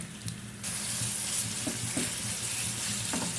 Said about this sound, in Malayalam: നമുക്ക് ചിക്കൻ ഇട്ട് കൊടുക്കാം. അതൊന്ന് ഫ്രൈ ചെയ്തെടുക്കാം കേട്ടോ.